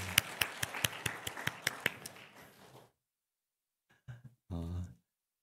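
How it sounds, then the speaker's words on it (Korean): A church congregation claps in a quick, regular rhythm of about a dozen sharp claps, then fades into a spread of scattered applause that stops abruptly. A brief voice follows after a pause. "우리 다 같이 하나님께 감사와 영광의 박수 올려드리겠습니다"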